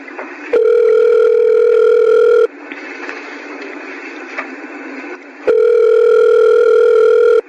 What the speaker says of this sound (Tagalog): Tatawagan ko si Boyet